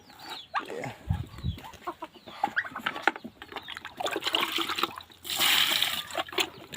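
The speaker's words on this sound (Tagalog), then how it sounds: "Ito, kuha tayong tubig." Water splashes and pours into a container at a poultry pen where chickens and ducks are kept, with hens clucking nearby and a louder rushing pour toward the end.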